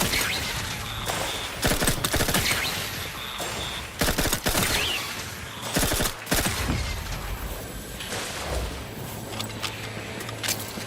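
Sustained automatic gunfire from the video game The Outer Worlds 2, loud, dense bursts of shots and booming impacts running nearly continuously with brief lulls.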